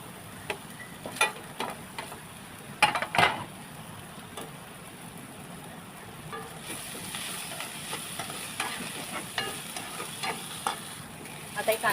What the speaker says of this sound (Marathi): आता हे कांदा तेलामध्ये परतून घ्यायचं आहे व्यवस्थित